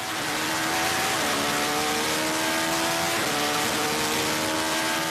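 An Acura LMP prototype race car at speed, its loud, close engine whine rising through gears and then stepping down in rapid downshifts under braking, with continuous strong engine roar throughout.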